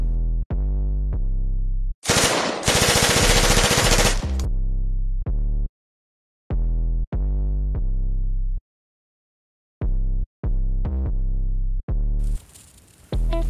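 Video game gunfire in an episodic adventure game: loud bursts of shots in short clusters separated by silences, one long rapid spray in the middle, close and dominant with no talking.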